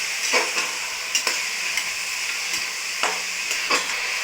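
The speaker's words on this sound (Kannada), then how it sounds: "ಇವು ಆಲೂಗಡ್ಡೆ, ಬಟಾಣಿ, ಬದನೆಕಾಯಿ ಚೆನ್ನಾಗಿ ಫ್ರೈ ಆದಮೇಲೆ ಹಾಕೊಳ್ಳಿ" Potatoes, peas and brinjal fry in a pan with a steady close sizzle, broken by several sharp scraping stirs of a spoon against the metal.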